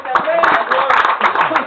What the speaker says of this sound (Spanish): Dale un aplauso fuerte a Rey.